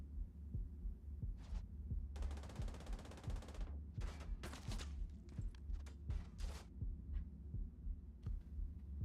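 Shots ring out in a shooter video game as sharp, faint bursts of rapid fire, some of them short automatic strings, over a low, throbbing background hum.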